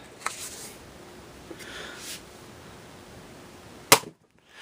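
An X-Shot Mega toy blaster fires a single sharp crack near the end, loud and close, after a few faint clicks and handling noises.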